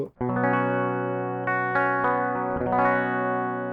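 Clean electric guitar chords with the Universal Audio UAFX ANTI 1992 High Gain Amp pedal switched off ring out with sustained harmonics, a few strums over nearly four seconds, steady and fairly loud, no talking.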